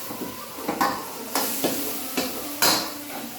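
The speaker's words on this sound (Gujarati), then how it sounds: "ડુંગળી થઈ ગઈ છે એટલે આપણે એડ કરી દઈશું ટામેટું અને મસાલા કરીશું." Onions browning in a pan sizzle steadily while tomato and spices are added, with several sharp stirring and scraping bursts spread through the frying hiss.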